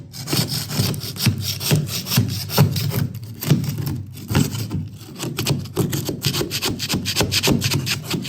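A hand scraper is worked over the body of an old Camaro in fast, rhythmic back-and-forth strokes, giving a close, loud rasping scrape with brief pauses between passes.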